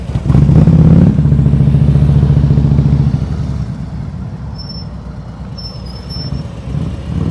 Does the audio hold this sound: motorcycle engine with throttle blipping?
yes